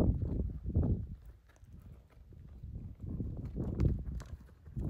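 Slow, soft hoofbeats of a young BLM mustang colt walking in small training circles, a loose uneven rhythm of dull thuds at moderate distance with quiet gaps.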